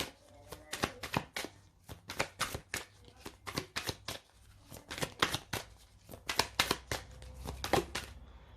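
Cards being shuffled, drawn and handled during a card reading, a steady run of close, soft papery flicks and riffles with no talking.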